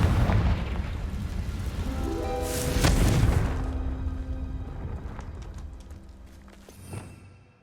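A Confringo blasting spell bursts in Hogwarts Legacy as a loud, deep boom that swells near the start, rolls and rumbles, then fades into a quieter tail with a small pop near the end.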